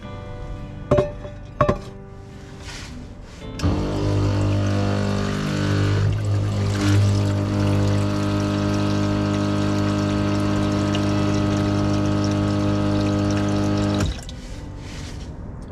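Water is pumped from the onboard supply of a Toyota Hilux camper into a 1 to 2 litre cooking pot: after a few clunks, a steady loud pump whir with running water lasts about ten seconds, then stops abruptly.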